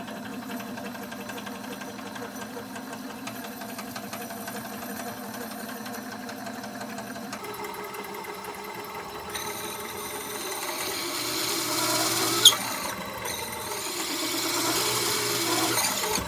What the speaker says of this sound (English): Using a hole saw to take the majority of the material away